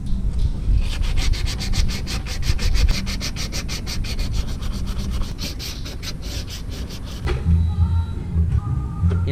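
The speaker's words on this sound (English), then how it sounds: "We're gonna sand it down and repaint it." Sanding coolant-damaged paint off a car engine part, a fast rhythmic rasping of back-and-forth strokes, close and steady, stopping near the end as handling noises follow.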